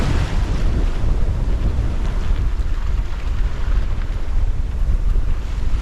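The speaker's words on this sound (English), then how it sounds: "A little bit of protection from the wind from the hills." Strong wind roars steadily over a sailboat at sea off the New Zealand coast, mixed with rushing water and heavy microphone buffeting, loud and continuous with no voices.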